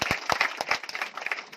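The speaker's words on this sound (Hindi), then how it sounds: "हम चाहेंगे अपने लिए एक दमदार अपनाने के लिए जोरदार तालियां दोस्तों।" Brief, sparse clapping from a seminar audience, a few distinct hand claps at moderate distance.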